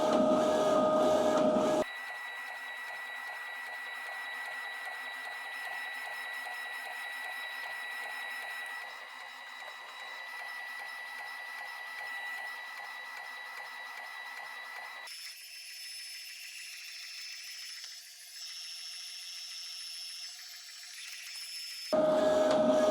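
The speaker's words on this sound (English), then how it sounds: "This printer actually prints out a lot faster because it is the dual head one." A dual-head DTF printer runs a transfer print with a steady mechanical whir and high tonal hum. The tone shifts partway through and carries on evenly, with no talking.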